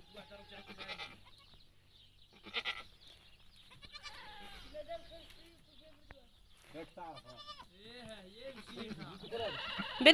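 A goat bleats while giving birth, several wavering cries at moderate distance mixed with rustling and people talking nearby, the calls growing louder toward the end.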